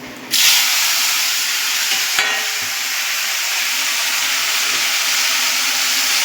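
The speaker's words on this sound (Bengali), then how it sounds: "রসুন কুচি নিয়ে নিয়েছি 5-6টা, হাতে কুচিয়ে নিয়েছি, ফোড়ন দিয়ে দেবো।" Chopped garlic, five or six cloves cut by hand, hits hot oil for a tempering, bursting into a loud, steady sizzle that continues with a brief stir partway through.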